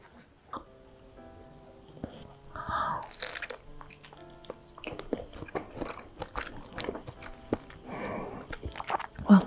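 Close, soft chewing of strawberry mugwort mochi (chapssaltteok): quiet, sticky squishes and small bites repeat irregularly and gain intensity toward the end, with no talking.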